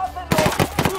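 Rapid automatic gunfire erupts in the video game Ghost Recon Wildlands after a brief quiet moment, a dense burst of close, loud shots fired in quick rhythmic succession.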